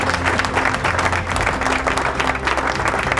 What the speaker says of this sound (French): On peut applaudir, on applaudit.